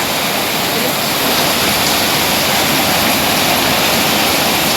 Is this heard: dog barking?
no